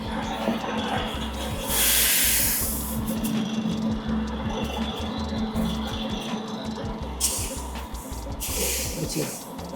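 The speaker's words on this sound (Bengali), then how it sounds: "মেশিন থেকে বেরিয়ে আসছে তেল।" Cold press mustard oil machine running, a steady mechanical grinding hum with periodic hissing bursts, recorded close while people talk over it.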